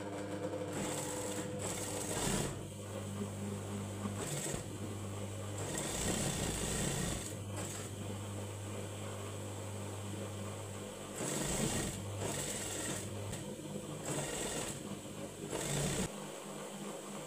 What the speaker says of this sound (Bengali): এভাবে দেখুন কাপড়টিকে উল্টিয়ে আমি একটি চাপ সেলাই দিব